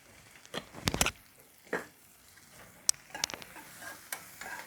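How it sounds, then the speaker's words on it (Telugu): Onions frying in a pan with turmeric, a soft steady sizzle under sharp clicks and taps of a stirring spoon against the pan, close by. "ఇవి బాగా వేగాలి. ఉల్లిపాయలు పచ్చివాసన పోయేదాకా వేగాలి."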